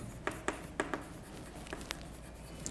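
Chalk or marker taps and scratches on a classroom board during an English grammar lesson, in short irregular strokes with quiet pauses between them, close and fairly faint.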